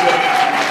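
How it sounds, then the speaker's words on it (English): A church congregation claps hands together during a worship service, a dense, continuous wash of applause filling the short moment without a break. "Clap, sisters, clap your hands for us."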